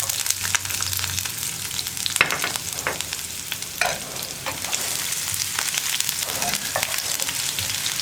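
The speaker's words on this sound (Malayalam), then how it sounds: "നമ്മുടെ കടുക് പൊട്ടിക്കൊണ്ടിരിക്കുന്നുണ്ട്" Mustard seeds splutter in hot oil with dried red chillies and onion for a horse gram and pumpkin erissery: a constant close sizzle dotted with sharp crackles and pops.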